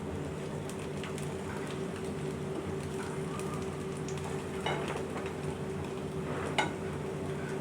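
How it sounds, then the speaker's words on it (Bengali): Eggs fry on low heat in a pan, a steady soft sizzle with occasional light clicks of a utensil against the pan and no speech. "এখন সবগুলোকে সুন্দর করে কম আঁচ দিয়ে তারপর ভেজে নেব"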